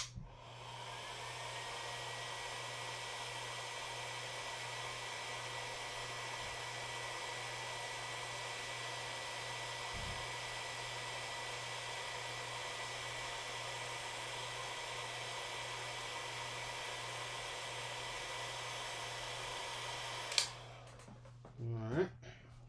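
A hot air tool heating a hole in a figure's leg, a loud continuous blower hum held steady for about twenty seconds, then cutting off with a few handling clicks at the end.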